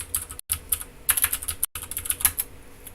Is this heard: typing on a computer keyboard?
yes